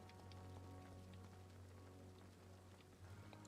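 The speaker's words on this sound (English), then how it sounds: "you can even hear the rain on the tarp" Steady rain patters on a tarp in the video game Vampyr, a dense even hiss of drops with a low constant hum beneath, running unbroken throughout.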